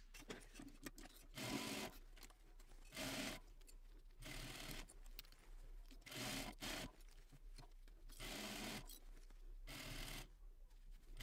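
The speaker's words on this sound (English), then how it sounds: "So I'm going to go to my sewing machine. I'm going to baste these together" A home sewing machine basting layered fabric for a crossbody bag, running in repeated short bursts of steady whirring stitching with brief pauses between, close and fairly quiet.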